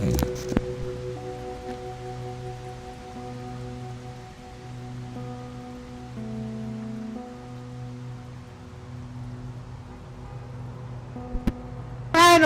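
Rain falls steadily in the survival game Hobo: Tough Life, a soft even patter that runs throughout beneath quiet sustained musical tones, with a brief louder clatter near the end.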